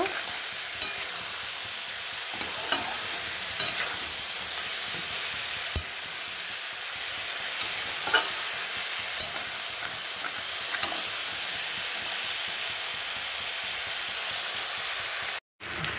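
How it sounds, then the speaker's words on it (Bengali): Ridge gourd and potato curry stir-fried in an uncovered pan makes a continuous, close sizzle and hiss, punctuated by occasional clicks and scrapes of the spatula, ending with a brief cut. "আমি আর ঢাকবো না, সুন্দর করে কষিয়ে নেব।"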